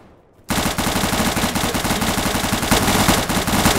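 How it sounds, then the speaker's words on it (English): Sustained automatic gunfire in the video game Arma 3 (Florida Life mod) erupts abruptly after a brief quiet moment, then continues as loud, rapid overlapping bursts of shots without pause to the end. "Can't hear you in the gunshots, mate."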